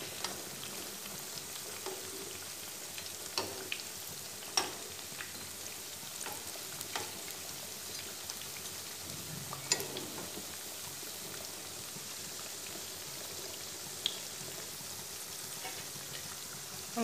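Pakoras frying in hot oil for kadhi pakora, a soft steady sizzle running the whole time with scattered light clicks and taps as the pieces are turned over, fairly quiet and without talk.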